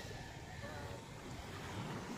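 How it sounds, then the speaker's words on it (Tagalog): Sea waves wash onto a beach in a steady, continuous low roar with wind buffeting the microphone, heard close and fairly loud with no pause throughout. "Oh, yan ang dagat."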